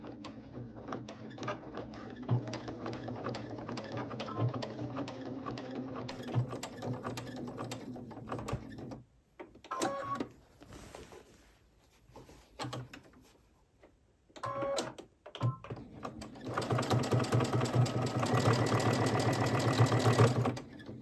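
A sewing machine stitches a crib sheet in steady, busy runs, breaking off into brief quiet pauses near the middle before starting again and running loud to the end.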